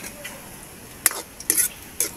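Ginger and garlic hit hot oil in a pan, giving short bursts of sizzling and stirring scrapes over a quiet background.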